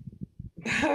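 A single close sneeze, preceded by a few short, breathy catches of breath, ends in a sharp, hissing burst.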